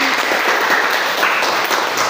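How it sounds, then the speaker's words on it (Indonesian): A steady crowd of people applauding, dense even clapping that fills the whole stretch at a loud, constant level with no talking. "Kita berikan tepuk tangan."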